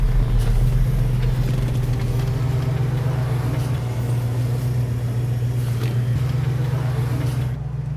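A Dodge Coronet idles loud and close before a race, its steady low engine drone filling the scene with faint rumble and no clear revving.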